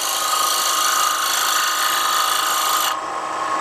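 Wood-turning gouge flipped to its face making a pull cut across a square bowl, a steady bright scraping hiss of shavings that runs continuously and then drops off sharply near the end.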